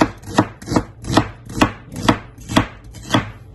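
Onion chopped on a cutting board, with seven evenly spaced, crisp knife strikes ringing out close and loud, each landing in a steady rhythm with nothing else heard between them.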